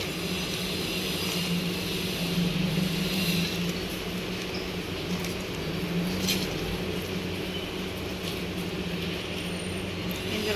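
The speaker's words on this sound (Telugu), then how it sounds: "మంచిగా పొడి కొట్టుకోవాలి." A kitchen mixer grinder runs steadily while powdering roasted dry red chillies, a continuous loud motor whir and rattling grind with no breaks.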